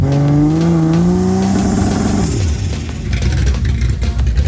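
A race car revs hard on a 2-step launch limiter, engine pitch climbing then dropping into a loud, crackling, popping stutter, close by with no talk.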